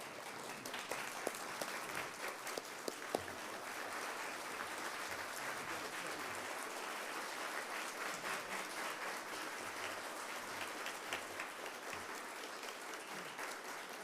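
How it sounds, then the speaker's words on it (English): An audience at a memorial service at Catholic University gives sustained, even applause for about fourteen seconds, a continuous wash of clapping heard from a distance at low level with no talking over it. "Can we give Charlie Ball a resounding round of applause?"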